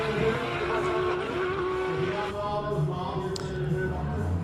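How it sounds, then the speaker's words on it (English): A GTR-bodied space frame race car with anti-lag roars past at a hillclimb, a loud sustained engine note that shifts pitch partway through, with a sharp crackle near the end. "Gosh, that anti-lag goes through your core when it kicks."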